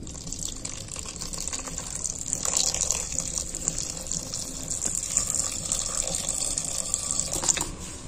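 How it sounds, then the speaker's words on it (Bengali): Water pours into a cooking pot of ghugni with potatoes, salt and turmeric, a steady close gushing stream running throughout without a break. "এবার আমি এতে দিয়ে দিচ্ছি জল।"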